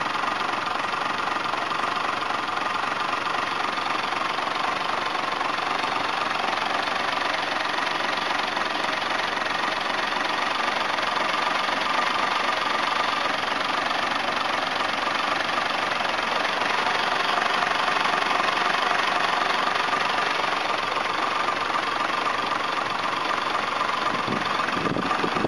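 An old car's engine idles steadily for the whole stretch, a continuous mid-pitched rumble with a slightly knocking, diesel-like character, close and alone with no talk.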